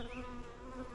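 Honeybees buzz in a dense, continuous drone around a hive and its queen, heard up close at a low, even level.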